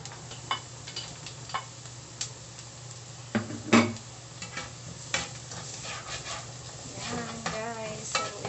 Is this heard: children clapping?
no